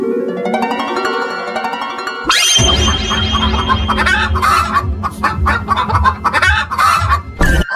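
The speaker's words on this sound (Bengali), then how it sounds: "হঠাৎ এক রাতে মুরগিগুলোর আওয়াজে বুড়ি ঘুম থেকে জেগে উঠল।" Cartoon chickens cluck and squawk loudly in a sudden burst after a musical lead-in, with agitated, irregular calls close up over a background score.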